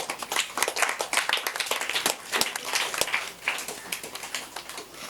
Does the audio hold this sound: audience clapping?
yes